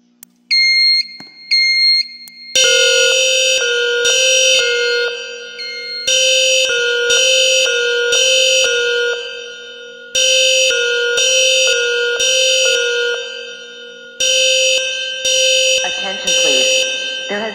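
An in-game fire alarm system in Roblox sounds after a pull station is activated, with a few soft setup tones giving way to loud repeating bursts of electronic horn-like tones in a steady on-off pattern, heard close and without pauses.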